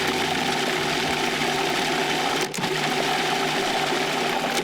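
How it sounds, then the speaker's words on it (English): A food processor whirs salad dressing for a crunchy noodle salad, a loud, even motor drone held steady for several seconds with one brief dip, close up and without speech. "And just whir it up in the food processor."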